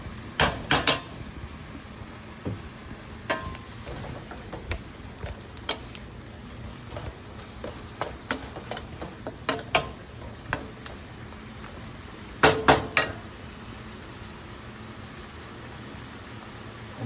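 Butter sizzles in a pan while jumbo shrimp pasta is cooked, giving a steady, soft frying hiss under scattered sharp clicks and taps of utensils against the pan.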